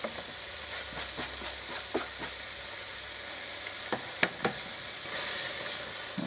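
Onions with added spices sizzle and fry in a pan, a steady broadband hiss with intermittent crackles and stirring scrapes, growing louder near the end.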